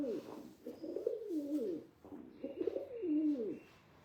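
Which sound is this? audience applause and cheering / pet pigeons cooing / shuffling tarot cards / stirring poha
pet pigeons cooing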